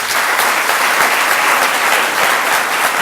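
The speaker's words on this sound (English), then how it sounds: "Let's give him a round of applause." Steady, loud applause from a lecture audience welcoming a Harvard University professor, continuous clapping filling the whole stretch without pause.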